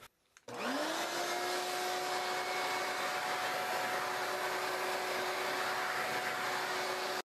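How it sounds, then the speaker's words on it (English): Shop vac starts up and runs at a steady loud whine while vacuuming dust off an antique tea cart, a continuous close drone that cuts off abruptly at the end. "Even though I've used a shop vac here"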